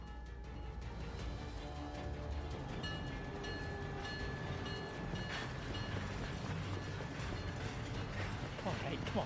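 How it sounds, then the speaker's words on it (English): Train noise from the video game Syberia: The World Before fills the scene as a train prepares to leave, with a steady rumbling, rattling roar and a faint sustained horn-like tone running throughout at low volume. "The train for the airport is about to depart."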